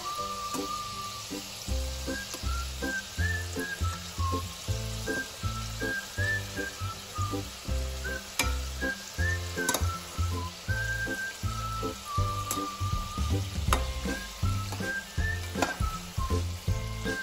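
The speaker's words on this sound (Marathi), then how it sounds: "तर इथं आता आपले मोदक गोल्डन ब्राउनिश असे तळलेले आहेत" Modak dumplings deep-fry in hot oil, a continuous bubbling sizzle heard up close with rhythmic low thumps and occasional faint whistling tones throughout.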